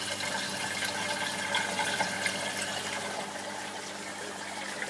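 Water rushes and bubbles steadily through an aquaponics air venturi feed system, a continuous close hiss and gurgle with no pauses or talk.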